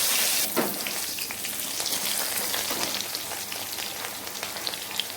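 Potatoes sprinkled with a little salt fry in a pan for a boiling fish curry with aubergine, giving a steady, dense crackling sizzle that runs loud and unbroken throughout, with no voices.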